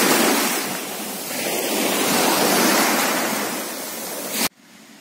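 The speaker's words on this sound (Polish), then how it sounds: "Dotarliśmy nad morze." Sea waves wash onto the shore in a loud, continuous roar mixed with wind rumble, then cut off abruptly at the end.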